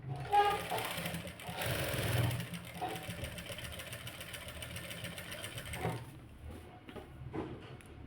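A sewing machine stitching a U-shaped princess-cut blouse runs in a steady, continuous mechanical whir with a brief pause near the end, close and moderately loud, with no talk.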